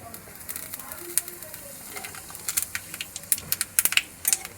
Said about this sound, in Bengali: মৌরি জিরের জন্য ফোড়নে দেবো মৌরি আর দেবো তেজপাতা